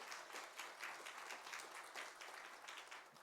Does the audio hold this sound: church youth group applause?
yes